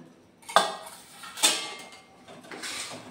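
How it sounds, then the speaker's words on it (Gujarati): Ghee being mixed into a metal plate for thabdi peda, with three separate scraping clatters of utensil against the plate, close and fairly quiet, with no talking. "થોડુંક આપણે થાળીમાં ઘી મિક્સ કરી લેશું આવી રીતે."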